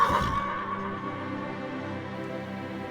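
A horse neighs loudly at a race meeting, the high whinny bursting out at the start and then fading into a sustained, reverberant crowd-like roar that fills the rest of the moment.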